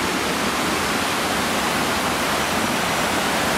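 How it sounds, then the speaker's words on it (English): Dense, unbroken roar of motorway traffic heard from beneath the bridge by a riverside, a steady wash of noise with no distinct vehicles standing out, loud and constant throughout. "I'm underneath the motorway bridge"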